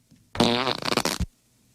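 A comedic fart sound effect gives one loud, close, rippling blast of under a second, ending in a short sputter.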